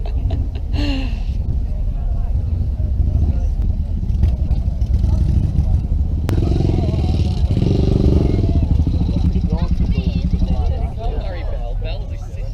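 A four-cylinder motorcycle engine idles and runs steadily at a farmyard party, a continuous loud rumble with clattering mechanical texture and people talking over it.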